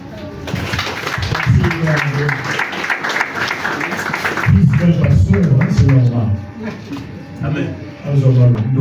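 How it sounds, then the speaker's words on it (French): Gathering of family and mourners at a tombstone-laying ceremony clapping, the hands mixed under loud voices and sung or spoken phrases close by, the clapping irregular and partly masked. "nous applaudissons"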